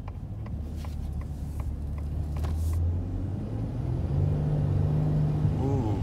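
A 2021 Ford F-150 XL regular-cab long-bed pickup accelerates through a corner, its engine giving a steady low rumble that builds gently with throttle, heard from inside the cab with no talking.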